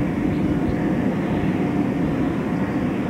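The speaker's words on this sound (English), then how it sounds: "Looks like a Navy C-130." A Navy C-130 flies overhead near Moffett Field during a 1992 Blue Angels practice, producing a steady, loud turboprop drone with a constant low rumble and hum.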